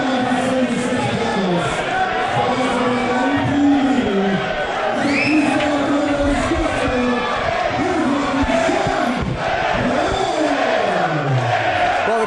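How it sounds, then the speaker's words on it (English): A large crowd at an auto race roars and cheers steadily and loudly throughout, while announcers talk over the noise. "the crowd is definitely trying to drown out anything for Shane"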